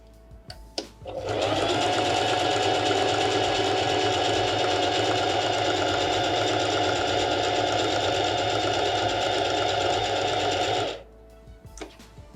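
A Singer Heavy Duty 4432 sewing machine runs a zigzag stitch in one steady, continuous whirring burst of about ten seconds, close and alone, then stops abruptly.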